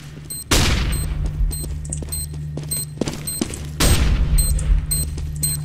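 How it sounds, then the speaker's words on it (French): Two sharp blasts go off in the CS:GO game, a flashbang grenade bursting loudly with a ringing tail. Shorter gunfire cracks and clicks follow in a busy in-game soundscape. "I'm throwing a flashbang."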